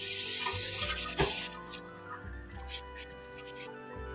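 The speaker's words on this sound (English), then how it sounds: "let's wash our hands." Tap water runs briefly over hands at a kitchen sink, a bright splashing rush that cuts off after about a second, followed by scattered wet rubbing and dripping sounds.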